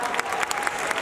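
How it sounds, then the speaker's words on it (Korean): Audience applause closes an open talk at the Busan International Film Festival, a brief dense burst of many hands clapping together at steady volume. "저희 박수 치면서 이 자리 마감하도록 하겠습니다"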